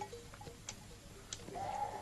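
Sheep bleat faintly a few times in a quiet rural setting, short distant calls over a low background hum.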